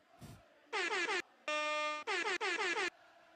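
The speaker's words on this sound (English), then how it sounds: "My air horn is not working right" A malfunctioning air horn blares in short loud blasts, one long steady note among stuttering honks, close and dominant.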